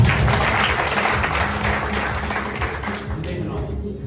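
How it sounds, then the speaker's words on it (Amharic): A church congregation at a prophetic service in Johannesburg, South Africa, breaks into sustained applause, a dense wash of clapping that holds steady and fades slightly toward the end, with crowd voices mixed in. "አይ አጨብጭቡለት።"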